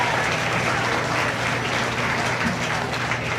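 An audience at a county feeder calf show applauds the feeder steer class, a steady wash of clapping that holds evenly throughout, with faint murmuring underneath.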